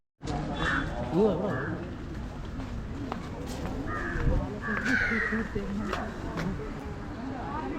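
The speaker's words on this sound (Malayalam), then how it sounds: "അതിൻ്റെ വായ്ക്കീഴ് കയറി ഒന്ന് കാക്ക അതിൻ്റെ ഇറച്ചി തിന്നുന്നു" A crow caws at Thiruvananthapuram zoo, giving several harsh calls scattered under continuous nearby speech and crowd noise.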